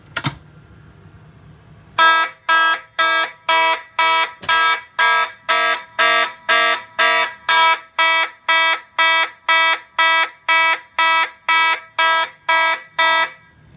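Harsh, loud fire alarm horns blaring in rapid regular pulses, about two per second, starting abruptly after a moment of quiet; two horn models clash.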